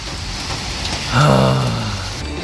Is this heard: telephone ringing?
no